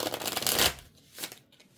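Slippery Shadow Love Oracle cards are shuffled in a quick, close riffling burst, followed by a few softer shuffling brushes.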